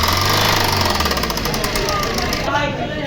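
A Maruti Swift diesel engine with a suspected timing fault idles with a loud, rapid, rhythmic knocking clatter close by, steady throughout, with a voice partly audible over it.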